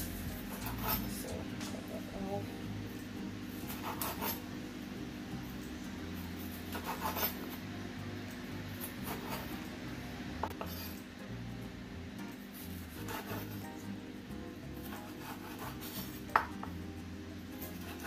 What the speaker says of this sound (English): I'm going to go ahead and cut them up in some nice little cubes